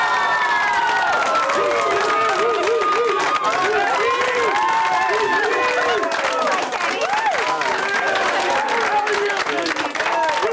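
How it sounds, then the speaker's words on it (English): A studio audience of high school kids cheers, whoops and applauds loudly for a returning football player guest, a dense continuous crowd roar with excited shouts throughout. "Let's give a big round of applause to Teddy Bruschi."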